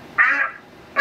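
Cartoon ducks from a Peppa Pig episode set at a pond let out a loud nasal quack, a pause, then the start of another quack, with no talking.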